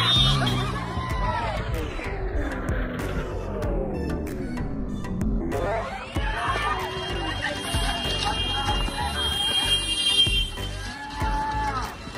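Horses whinny loudly with long, wavering cries at a horse-cart race, amid a noisy outdoor crowd with people shouting and chattering around.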